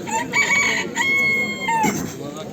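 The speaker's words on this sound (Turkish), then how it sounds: "Burada bir yerden horoz sesi geliyor ama değişik bir şey" A rooster crows twice in a row at an Istanbul bird market, the second call longer and unusual-sounding, with a faint background murmur and other fowl noises around.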